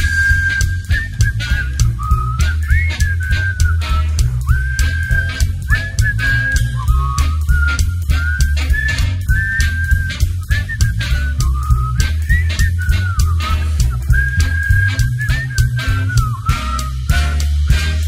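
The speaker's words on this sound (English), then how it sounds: "Whistle solo." A whistled melody carries the solo of a lounge-style cover song, with a clear, wavering tune over a backing band and a steady rhythmic pulse that continues throughout.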